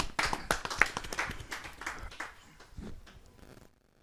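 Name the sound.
audience clapping to welcome a poet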